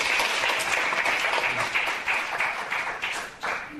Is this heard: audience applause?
yes